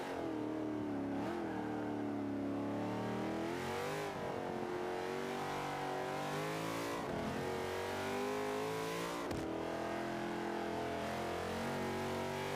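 A 70-horsepower Corvette engine in the racing game Forza 5 revs steadily, with the pitch rising and falling between shifts, loud and close throughout with no talk.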